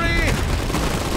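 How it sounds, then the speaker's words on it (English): Iron Harvest battlefield: a fusillade of rifle and machine-gun fire mixed with artillery makes a steady, rumbling barrage, while a brief game voice is heard at the start. "The incoming artillery!"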